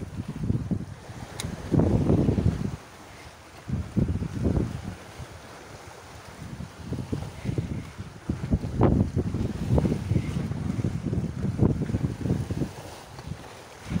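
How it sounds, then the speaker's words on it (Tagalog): Strong wind buffets the microphone in loud, uneven gusts, with rushing water and waves churning beneath throughout. "Lumakas na naman yung hangin."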